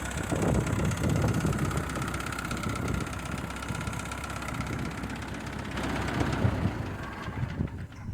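A Ford N-Series farm tractor engine runs steadily at idle, a continuous close mechanical rumble with light wind noise and no voices.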